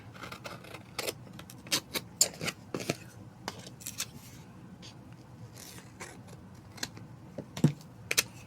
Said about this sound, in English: And then cut away this edge.